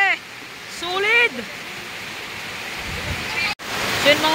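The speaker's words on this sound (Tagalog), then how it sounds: "Lakas ng ulan. Grabe." Heavy rain pours down during a stormy outing, a steady dense wash of noise close by, with voices talking over it.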